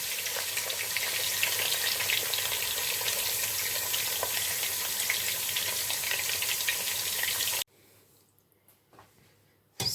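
Fish frying in hot oil for Nigerian buka stew makes a loud, dense, steady sizzle for most of the stretch before cutting off abruptly into near quiet with faint handling sounds.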